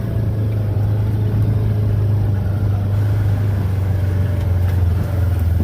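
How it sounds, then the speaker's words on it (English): A Ranger side-by-side utility vehicle drives outdoors with a steady mid-pitched engine drone and a constant low hum, loud and close throughout, with no voices. "I'm going to drive the Ranger out in here"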